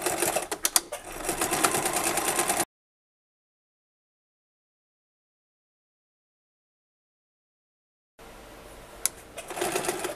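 A sewing machine stitches a skirt seam, running in steady bursts of motor whir and needle chatter before going silent mid-clip, then starting up again near the end.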